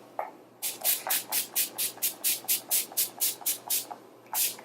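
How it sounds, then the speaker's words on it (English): A rapid series of about fifteen short, even spritzes from a bottle of Urban Decay All Nighter setting spray onto a face, hissing in a steady rhythm close to the listener, with a brief pause before the last one. "I'm gonna spritz my face with my Urban Decay All Nighter setting spray"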